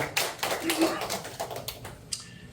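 Scattered applause rises from a gathering at a church lecture, close claps in an uneven patter that tapers off, mixed with some murmuring.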